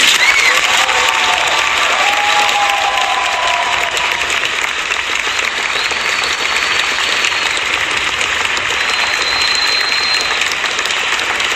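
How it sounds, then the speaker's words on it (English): Sustained applause and cheering from an arena crowd greeting boxers arriving for a Ryan Garcia versus Rolly fight, dense and loud throughout with a few whistles rising above the clapping. "let's give everybody a round of applause"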